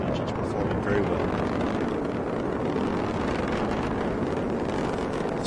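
Nine engines of a SpaceX rocket roar during the launch of NASA's PACE ocean and atmosphere satellite, a dense, steady, loud rumble with no breaks across the whole stretch.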